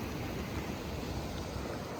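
Waterfall pouring into the sea on a cold Welsh coast, mixed with breaking waves; a steady, dense broadband roar with wind buffeting the microphone, even in level throughout and with no voices.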